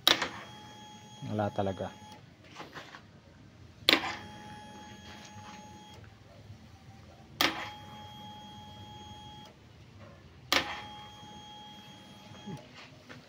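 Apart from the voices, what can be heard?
KTM Duke 200 starter relay clicking, engine not starting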